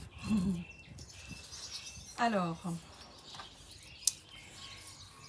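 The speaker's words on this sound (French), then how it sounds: "avec les petits oiseaux qui chantent" Small birds chirp outdoors in brief, bright calls, with a short rapid run of notes in the middle, heard between a woman's nearby speech and faint rustling.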